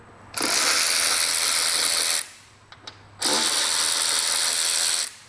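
A ratchet wrench backs out 5mm fasteners from a Vespa rack in two long, loud bursts of rapid clicking, separated by a short pause with a couple of small knocks, and no voices.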